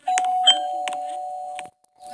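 A house doorbell rings out in a quick run of bright, sustained electronic tones, loud and close, before dropping briefly to silence and starting again.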